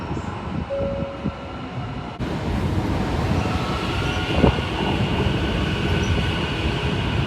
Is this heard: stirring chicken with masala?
no